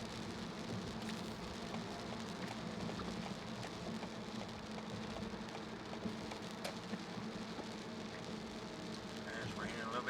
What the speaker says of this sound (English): And it's raining a little bit more.